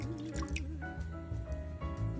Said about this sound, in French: On verse maintenant ce jus de citron sur les zestes.